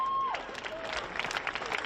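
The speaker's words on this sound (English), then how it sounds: "maybe we need a big extra round of applause for someone who's not here" Crowd applause at a football medal ceremony after a play-off series final, brief scattered clapping and light cheering at moderate distance, following a fading tone.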